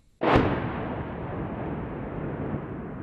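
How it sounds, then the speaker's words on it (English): A single mortar round fired from a military base in Afghanistan toward a ridgeline: one sharp, heavy boom followed by a long rumbling echo rolling on for several seconds, with no voices. "soldiers back at their base fire mortars onto the ridgeline"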